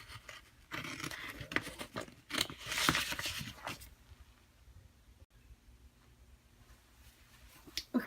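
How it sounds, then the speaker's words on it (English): Scissors snip through paper while cutting the center section out of scrapbook album pockets, a run of close, crisp cuts and rustles in the first half, then quieter paper handling. "I'm cutting out the center section"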